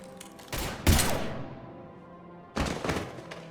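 Gunfire in the video game Mass Effect 3 (Legendary Edition): two loud bursts of shots, the first with a heavy thump, followed by a decaying echo and then a second burst, with no talking.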